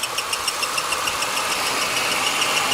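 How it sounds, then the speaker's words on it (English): Car engine with a 3.0 idling steadily, a rapid rhythmic chirping squawk from a cam sensor repeating over the low running drone, close and fairly loud. "But that's that cam sensor thing down there, squawking."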